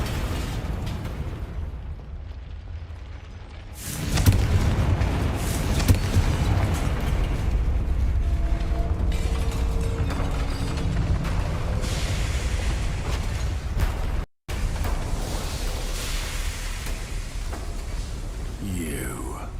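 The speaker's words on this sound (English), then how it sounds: "Collapse all pillars." Stone pillars crumbling and crashing down after spellcasting in Hogwarts Legacy, a loud sustained rumble of debris beginning a few seconds in and continuing with thuds and scattered impacts, with brief game voices and music underneath.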